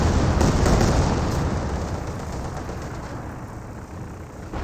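Rocket-run explosions in the Company of Heroes war game: a dense, loud roar of blasts and rumbling bursts that swells early, then gradually fades over several seconds.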